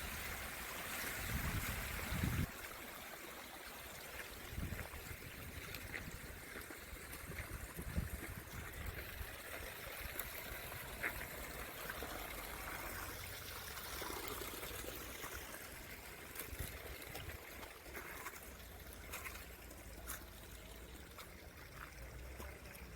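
Water from the Thovalai canal pours and rushes steadily like a waterfall, a broad continuous outdoor wash of flowing water lasting throughout with no voices.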